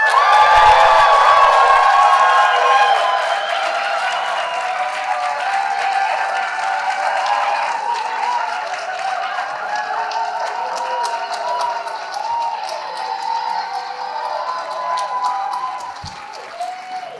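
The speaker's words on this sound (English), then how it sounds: "So I want you to give a big cheer on the count of three" A studio audience at a comedy game show cheers and whoops loudly, a dense sustained roar of voices and clapping that holds steady throughout, close and full.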